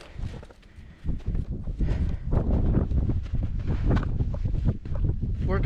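Strong wind buffeting the microphone on a cold, exposed mountain hike near Castle Peak and Andesite Peak, a steady loud roar with repeated gusty surges throughout.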